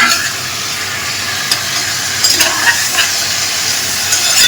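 Sliced pork fat layers fry in a hot pan with a loud, close, steady sizzle and hiss, punctuated by a few sharper spatters and stirring scrapes.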